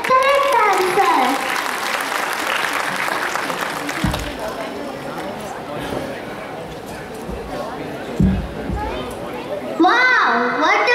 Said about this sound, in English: Please give a big round of applause for yourself.